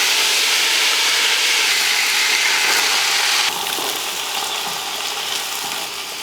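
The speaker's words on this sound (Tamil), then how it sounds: "அந்த கரண்டி வந்து ஈரமாக இருந்திருக்கும் போல் பட்டுன்னு தெரிக்குது" Hot oil with mustard seeds spatters in a pan while tomato rice is cooked, a loud, continuous hissing sizzle that drops slightly in level partway through.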